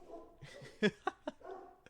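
A dog named by its owner barks several short, sharp times at something moving outside, the barks close and separated by brief pauses, with a faint whine between them.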